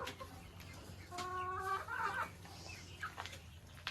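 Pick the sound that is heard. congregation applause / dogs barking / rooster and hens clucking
rooster and hens clucking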